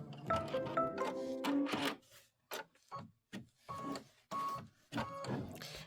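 Computerized embroidery machine stitching a quilt block, a close mechanical whirring and buzzing in short bursts separated by brief pauses, with some rhythmic clicking.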